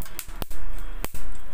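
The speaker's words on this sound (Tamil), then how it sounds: "சடச்சடன்னு வெடிக்கும் பாருங்களேன்" Ingredients crackle and pop while frying in a hot pan on a stove: four loud, sharp snaps at uneven intervals over a steady sizzling hiss.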